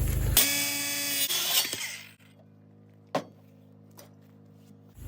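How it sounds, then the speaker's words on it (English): A power saw rips through a wooden board for a solar panel rack pivot, a loud dense burst for about two seconds that then cuts off, followed by a quiet hum and a couple of sharp knocks. "Whenever you make a cut with the saw like that"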